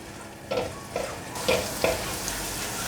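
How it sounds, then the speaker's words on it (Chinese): Minced ginger fries in a little hot oil in a wok, a soft steady sizzle with several short scraping stir strokes, growing fuller partway through; no talking. "锅内放入适量的油，油稍微热了，放入姜末，把姜末炒香"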